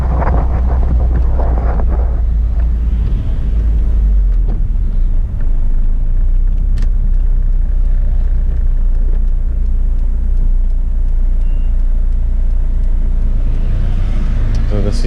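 Toyota Corolla AE111 on the road, heard from inside the car: a steady low engine and road rumble with wind buffeting, continuous and fairly loud throughout, no talking.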